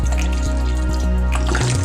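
Water runs steadily from a kitchen tap while a cook prepares an Asian dish, producing a continuous close splashing stream that holds at an even level throughout.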